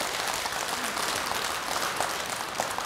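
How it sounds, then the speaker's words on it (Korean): An audience at a Sunday dharma talk in Jogyesa temple bursts into loud, sustained clapping, a thick wash of many hands that keeps going for a few seconds without voices. "맞으면 박수를 한번 크게 치세요."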